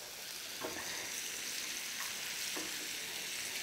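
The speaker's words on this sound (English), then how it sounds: "So now it's starting to heat up in there. We add a little bit of butter." Butter sizzles steadily in a hot pan in a demonstration kitchen, a continuous bright frying hiss with a few soft stirring clicks, heard alone at moderate level.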